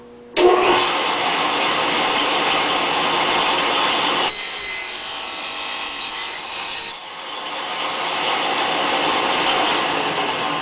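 A wooden top or bottom bar for a foundationless beehive frame is sawn through with a short cut. It is a continuous, close, raspy sawing sound whose tone shifts partway through, with no talking.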